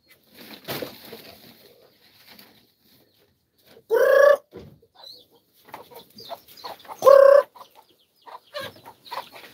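Two loud bursts of chicken clucking and squawking stand out close by, with softer rustling and scattered bird sounds between them.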